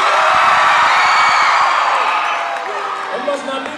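Middle school crowd in a gym or auditorium whooping, cheering and yelling loudly at an assembly, the roar fading slightly toward the end with scattered individual shouts.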